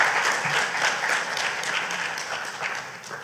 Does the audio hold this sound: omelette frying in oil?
no